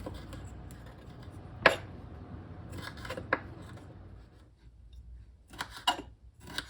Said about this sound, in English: I am going to start by cutting up these tomatoes.